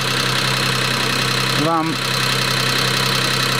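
A cogeneration engine runs steadily at a constant drone after two hours of operation, close by, with a brief voice cutting in over the hum midway.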